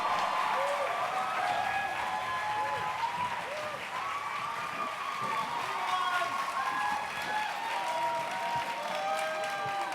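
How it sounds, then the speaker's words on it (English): A live Comic Con audience applauds the Critical Role cast, a dense, loud wash of clapping that runs the whole time, with whoops and shouting voices rising over it. "Please put your hands together for the cast of Critical Role."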